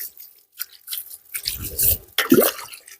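Close, brief splashes and drips of water sprinkled onto slaking lime, hitting a gritty surface in a few irregular bursts with a faint fizz between them.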